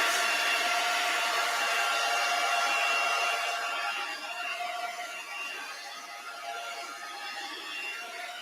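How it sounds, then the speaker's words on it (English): A hair dryer blows with a steady, loud airy rush and a faint motor whine, easing slightly in pitch and level midway, with no talking. "I'm going to use my hairdryer to dry my print."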